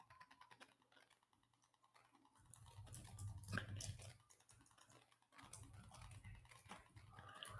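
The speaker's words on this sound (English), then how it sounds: "I'm typing this up." Rapid clicking of fingers typing on a keyboard, close and fairly quiet, coming in bursts with brief pauses and a low hum underneath.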